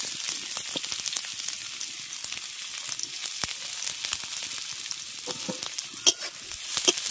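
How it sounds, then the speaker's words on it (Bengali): Chopped onion and green chili go into hot oil, producing a loud, steady, close crackling sizzle with scattered pops and stirring scrapes throughout. "এবার তেলের মধ্যে কুচনো পেঁয়াজ আর কাঁচা লঙ্কা দিয়ে দিচ্ছি।"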